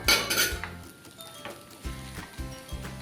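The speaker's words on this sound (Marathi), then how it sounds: "ह्यामध्ये जे आपण ड्रायफ्रूट्स घेतले होते ते घालूया मिक्स करूया" Dry fruits being stirred into sheva, a sweet vermicelli dish cooked in a pot as a festival offering, with clinking spoon-on-pot scrapes and soft stirring sounds recurring at a moderate, close level, no talking.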